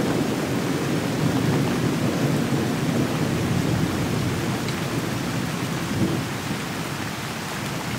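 A thunderstorm roars with heavy, steady rain and a continuous low rumble of thunder, loud and unbroken throughout, with no voices.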